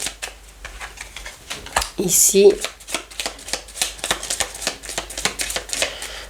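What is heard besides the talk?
tarot cards being shuffled and laid out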